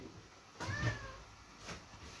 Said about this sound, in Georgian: ეზოს კატას ვაჭამე